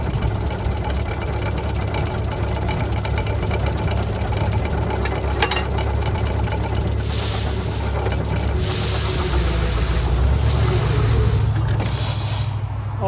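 A 1926 Caterpillar Sixty tractor engine running during a belt start, a loud, steady low chugging drone up close that swells slightly toward the end, with faint talk underneath.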